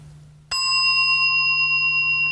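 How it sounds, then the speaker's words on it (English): A mindfulness bell is struck once partway through, its bright, clear tone ringing on with long sustained overtones over a low steady hum, following near silence. "Now the third sound, the bell."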